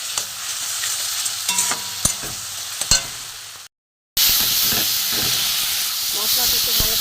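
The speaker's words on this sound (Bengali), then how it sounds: "মশলাটা ভালো করে কষিয়ে নেবো।" Spice paste for ghugni sautéing in a pan, a bright hiss with several spatula clacks, a brief silent break, then a louder steady sizzle and steam hiss.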